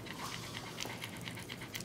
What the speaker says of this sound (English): The panting you're hearing is from my dog, Vivian.